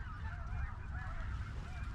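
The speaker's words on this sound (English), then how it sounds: "That's a goose." A goose honks repeatedly from nearby during a waterfowl hunt in Arkansas, its nasal calls steady over a low rumble of wind and flock noise.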